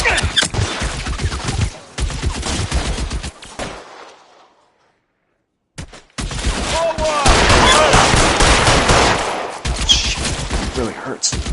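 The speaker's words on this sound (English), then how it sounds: "Suppressing fire." Suppressing gunfire in the video game L.A. Noire, loud bursts of rapid shots in two stretches separated by a few seconds of silence, dense and close with game sounds.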